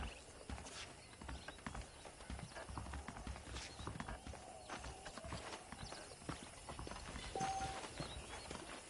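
Saddled horses in the Red Dead Redemption video game clip-clop steadily nearby, with a brief whinny and light ambient sounds of the western setting, no talking.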